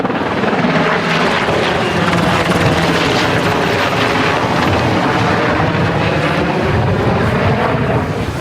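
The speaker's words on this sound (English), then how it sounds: "So we got 2 helicopters here right now. One just made a drop." Firefighting helicopters fly low over a wildfire during a water drop, their rotor roar loud, steady and unbroken throughout, with wind buffeting the microphone.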